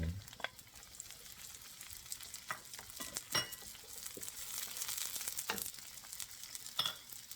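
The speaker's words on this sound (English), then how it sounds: "now we can add the onions" Onions sauté in a hot pan after garlic for Filipino ginisang upo, giving a soft, steady sizzle broken by occasional stirring scrapes and clatters, close and moderately quiet with no talk.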